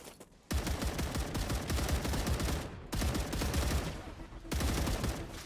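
Rapid automatic gunfire rings out in the video game StarRupture, coming in three sustained bursts with brief gaps between them, loud and dense throughout.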